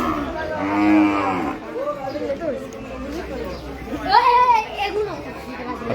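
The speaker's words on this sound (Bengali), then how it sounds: "এক বিশাল গরু বাজারের আয়োজন করা হয়েছে।" Cattle moo loudly at a large open-air cattle market set up for Qurbani buying, with a long low call near the start and another bellow later, over a steady crowd murmur and background chatter.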